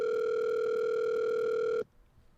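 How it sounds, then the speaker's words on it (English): A telephone dial tone hums steadily and loudly for almost two seconds, then cuts off abruptly to near silence. "Hopefully the phone works."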